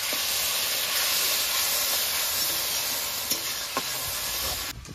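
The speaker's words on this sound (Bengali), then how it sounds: "লবণ হলুদ সব কিছু দিয়ে দিয়েছি, এবার মশলাটাকে ভালো করে কষিয়ে নেবো।" Spice masala with salt and turmeric frying in a pan for a vegetarian posto paneer dish, a loud continuous hissing sizzle close by, with a couple of brief stirring knocks near the end.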